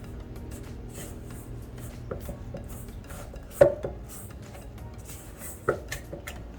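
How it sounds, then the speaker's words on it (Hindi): Spoon stirring banana bread batter in a bowl, a steady soft scraping and rubbing with a few sharp clinks of metal against the bowl, close and moderately quiet, with no talking. "और हम इसी स्पून से ही मिलाएंगे, हम कोई इसको बीटर से कोई हम वो नहीं करेंगे"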